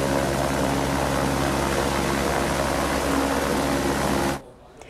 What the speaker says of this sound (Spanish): Este es video del momento en que un helicóptero rescata a una persona de la rápida corriente del río Llano.